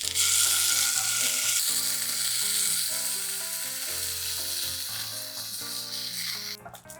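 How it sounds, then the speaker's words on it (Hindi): Tofu sears in a pan over a high flame, a loud, steady hiss and crackle of hot oil running throughout over background music, with a brief scrape near the end. "हाई हीट में हम टोफू को सेयर करेंगे ऑन ऑल द साइड्स"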